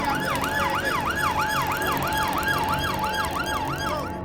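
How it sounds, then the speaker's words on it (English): Police sirens wail in a continuous rising and falling cycle, loud and close, with a vehicle engine rumbling beneath them. "and then I can hear the sirens of my colleagues turning up"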